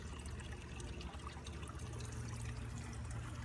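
A backyard garden water feature trickles steadily and softly, a continuous close splashing of running water with no voices over it.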